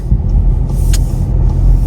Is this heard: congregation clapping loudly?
no